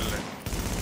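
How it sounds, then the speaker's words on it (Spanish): Automatic M4 rifle fire from the video game The Division, a dense rapid burst of gunfire that fills the short moment at steady loudness, with a brief dip midway. "Vosotros simplemente vais a tener que apuntar, disparar y el arma ya va a hacer trrrat"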